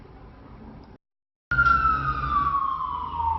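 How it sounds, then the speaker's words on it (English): A fire engine siren wails loudly and close, a strong descending tone over engine rumble, entering after a brief silent gap that follows a quieter stretch of road noise. "Hear a fire engine"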